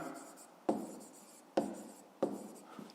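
A pen writes by hand on paper during a fifth-grade maths exercise, three sharp taps on the page, each trailing into a soft scratch of strokes, faint and close in a quiet room.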